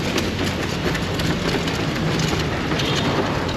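Road traffic passes a metro rail construction site on the Motijheel–Kamalapur route, a dense, steady roar of vehicles that stays loud and unbroken throughout, with no voices.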